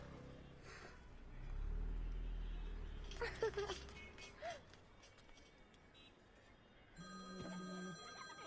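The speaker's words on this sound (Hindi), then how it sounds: "फिर से फोन कर रहा है। यो, उठा लो, इनकमिंग फ्री है।" A telephone rings in short bursts amid background street and traffic noise, with a car rumbling past early on; no one speaks.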